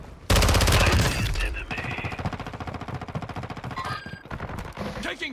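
Loud, rapid automatic gunfire from the video game Warzone, in its Haunting event, comes in sustained bursts with dense rattling shots and brief gaps, and the onslaught continues to the end.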